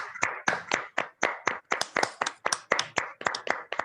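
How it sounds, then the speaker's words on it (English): Several participants on a video call clap at the same time, heard as a quick string of crisp, separate claps over about four seconds, with nobody speaking. "we should all just unmute ourselves and give a applause to him"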